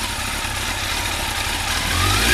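Kawasaki ZX12R motorcycle engine running with cylinders 1 and 3 not firing because of bad spark plugs, a loud, steady rough drone close by that swells slightly toward the end.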